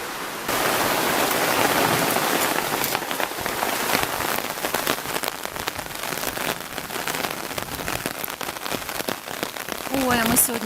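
Steady rain patters and hisses on a surface, dense and continuous, with a brief tonal sound near the end.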